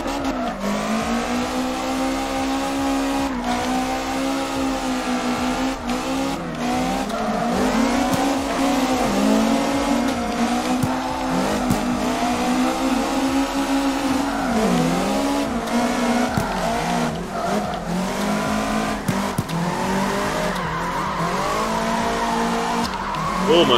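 A BMW drifts in CarX Drift Racing, its engine droning and revving continuously while tires squeal and skid through a spin-out, loud and unbroken for the whole stretch.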